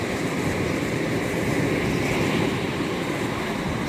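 Ocean waves surge and break continuously around a small boat during a crossing, a loud, dense wash of surf with wind buffeting the microphone throughout.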